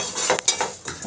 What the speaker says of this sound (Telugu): నాలుగు లవంగాలు, 4 మిరియాలు వేపుకుంటే కొంచెం ఘాటు వస్తుంది.